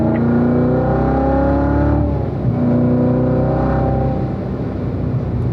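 A race car on the Spring Mountain track rolls back onto the throttle, its loud engine note climbing through rising revs in a smooth sustained drone, close and alone.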